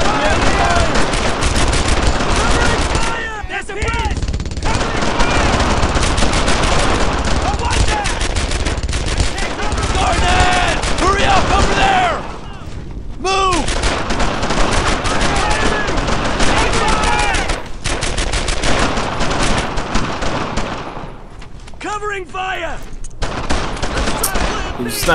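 Dense gunfire from the World War II shooter Brothers In Arms: Earned In Blood: sustained loud rifle and machine-gun bursts with few short lulls, and shouted voices mixed in among the shots.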